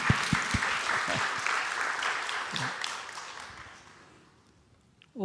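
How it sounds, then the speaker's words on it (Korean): Church congregation clapping during a Sunday worship service, a broad wash of applause with a few sharp nearby claps, gradually fading to quiet at the end. "우리 박수 한번 내서,"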